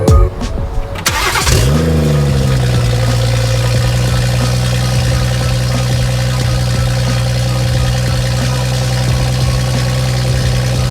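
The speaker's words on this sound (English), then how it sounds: "As you guys can see, car starts right up now." A BMW F31 wagon with a swapped B58 engine cranks briefly and fires up, settling at once into a loud, steady idle that holds close and constant to the end.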